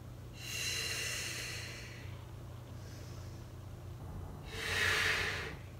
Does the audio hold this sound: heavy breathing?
yes